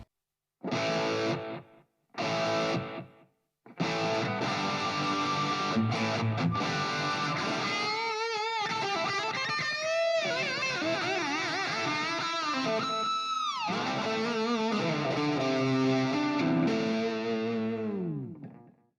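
Distorted electric guitar in a brown-sound tone with a short delay: two brief stabbed chords, then a sustained run of riffs with pitch bends and squealing harmonics, loud and alone.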